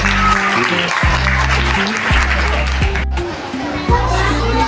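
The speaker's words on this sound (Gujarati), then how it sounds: "જોરદાર તાળીથી પહેલા સાહેબનું સ્વાગત" At a school admission festival, a crowd of children claps loudly to welcome an official. Steady applause comes with a low voice heard over it, and brief gaps break the clapping as children's chatter mixes in.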